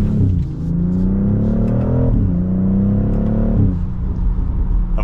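A car with a ZF 8-speed automatic pulls away hard from a stop, engine note rising loud and close through two quick upshifts, with a steady rumble between the climbs.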